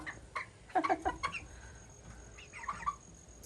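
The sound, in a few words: chickens clucking in a coop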